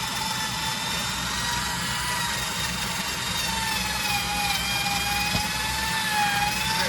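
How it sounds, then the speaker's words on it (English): An electric drill fitted with an old wire brush scrubs deposits off a Ford 289 cylinder head, a steady whining motor hum with a continuous abrasive hiss, close and unbroken by talk. "Now it's got some old cheap wire brushes on my drill here."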